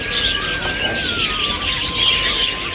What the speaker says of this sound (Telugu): చిన్న చిన్న పక్షులు